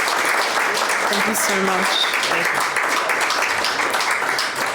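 Audience applause for an author after a books-and-conversation event, a dense steady patter of clapping throughout with a voice speaking briefly over it.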